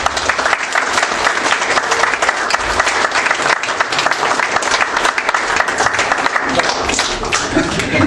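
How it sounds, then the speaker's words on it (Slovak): Sustained, dense applause from a large audience at an awards ceremony for a GPX final, loud and even throughout with no break. "Ten potlesk patril všetkým GPX-ákom."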